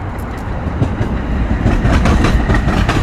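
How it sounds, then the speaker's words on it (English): A train rolling past at Dealey Plaza, loud and close, with a continuous heavy rumble and rhythmic clickety-clack of wheels over the rails throughout, no talking. "It's another train."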